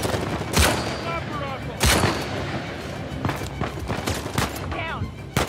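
Gunfire in the video game Uncharted 4 rings out as loud, sharp bursts of shots and booming impacts mixed with game effects, while voices shout over the firefight.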